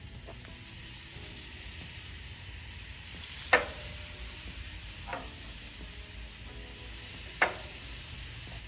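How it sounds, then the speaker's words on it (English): Chicken pinchos skewers sizzling on a hot grill, a continuous bright hiss and crackle with a few sharp pops and flare-ups standing out over the steady sizzle. "We're going to add our pinchos to the grill."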